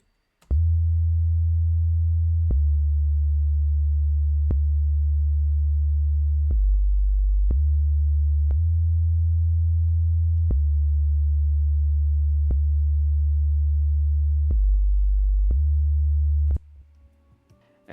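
A steady, pure synth tone from Sylenth1's oscillator section B, soloed, holds alone, changing pitch in even steps every second or two with small clicks at each change, then stops abruptly.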